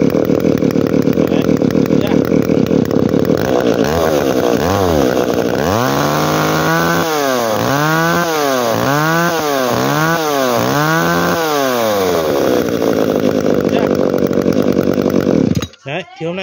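A used Japanese R23 chainsaw engine runs loud and near, idling, then revving in a series of rhythmic rising-and-falling bursts before settling back to idle, with brief talk behind it.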